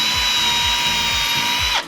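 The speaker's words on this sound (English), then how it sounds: "and drill through just like that" A power drill whines steadily at high speed, close and loud, with a rhythmic low grinding as the bit bores through a floating shelf, then it stops abruptly.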